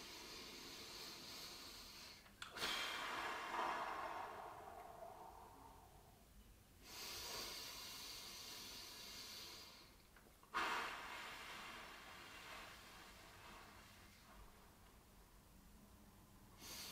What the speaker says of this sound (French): Et on est parti pour 3 respirations.